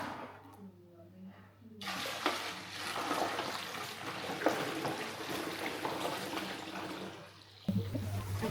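Water runs and splashes steadily in a kitchen sink while pots are washed, the rushing flow starting after a short pause and continuing with light clatter, with a faint voice speaking at the start.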